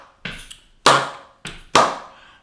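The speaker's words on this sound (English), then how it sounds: "it sounds like this if I clap it." Bare hands clapping a samba clave rhythm from Brazilian music: four sharp, close claps in an uneven pattern, the second and fourth louder, with nothing else sounding.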